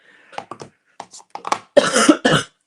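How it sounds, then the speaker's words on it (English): A few small throat sounds lead into a burst of harsh, close coughs, two strong coughs near the end. "I do still have a bit of an annoying cough"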